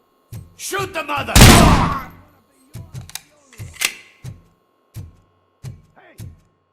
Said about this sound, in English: Hey, am I hearing gunshots?